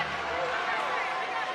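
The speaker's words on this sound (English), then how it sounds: "this crowd suddenly erupted here at the end of the third" Crowd at an NCAA women's second-round basketball game, UCLA versus Maryland, filling the arena with a loud, steady roar and babble that holds for the whole moment, a voice talking over it.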